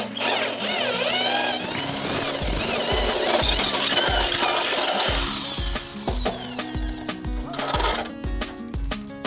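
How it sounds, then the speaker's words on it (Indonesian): Power drill boring holes into light steel scaffold, several short loud bursts of whining and grinding in a quick uneven rhythm, close by, with no talking. "Selanjutnya saya melakukan pengeboran di atas bahu nomor 2 teman-teman"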